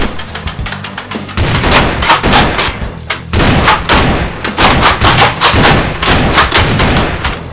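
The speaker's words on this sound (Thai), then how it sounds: "โอ้กระหน่ำยิงขนาดนี้ทำไม่ได้หรอครับ" Heavy gunfire rattles out in rapid, dense bursts in a Thai short film about a beloved robot, loud and continuous with brief gaps, no talk over it.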